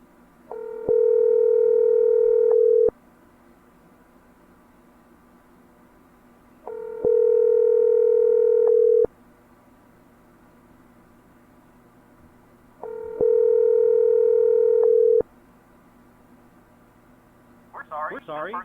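A telephone ringback tone on an outgoing call to a 302-area-code number, with three long steady tone bursts spaced evenly with silence between, ending as a recorded voice begins.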